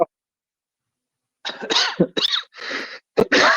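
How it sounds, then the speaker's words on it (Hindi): A man coughs in several harsh, raspy bursts after a brief silence, fairly close and loud, with short gaps between the fits. "बूढ़े आदमी को खांसी आने लगे"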